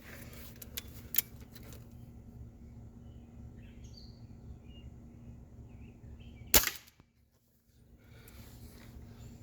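A single sharp, snappy pop of a Hatsan 135QE Carnivore .30 air rifle shot with a quiet energy system rings out once in a backyard, faint outdoor ambience with distant birds, followed by a brief hush.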